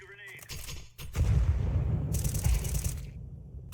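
A grenade goes off behind a wall on Dust 2 in Counter-Strike, a loud booming blast that rumbles for a couple of seconds after a brief metallic clatter, with game effects layered over it.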